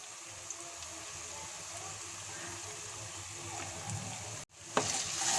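Spices for shahi paneer sizzle softly and evenly in a pan, close by but fairly quiet. After a brief cut near the end, a stirring clink is heard.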